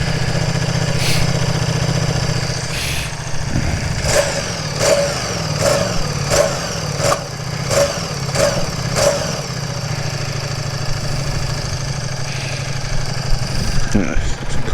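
A cold Ducati Diavel motorcycle engine idling with a rough, uneven low rumble, broken by a string of sharp clicks and blips, with a person talking over it.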